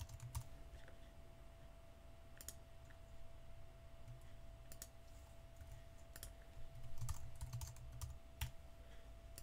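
A new password is typed on a computer keyboard, producing quiet irregular clusters of key clicks, faint and close, over a low steady hum, with no talk.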